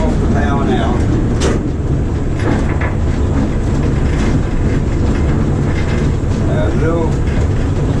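A heritage train at the East Kent Railway runs with its power shut off, making a loud, continuous low rumble with rail clatter. Someone talks over it nearby.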